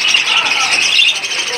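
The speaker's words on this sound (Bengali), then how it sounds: "এখানে রয়েছে বেশ কিছু ডায়মন্ড গুগু পাখি" A dense, loud chorus of pet birds, including diamond doves kept for sale, chirping and squawking continuously at close range, with speech mixed in.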